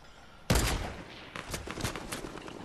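Gunfire in Fortnite, a burst of close broadband shots at the start, then a quicker string of sharp reports trailing off into the game's background din.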